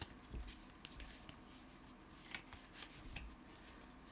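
Tarot cards being shuffled by hand: soft, quiet riffling and sliding with a few brief flutters and taps, close and alone.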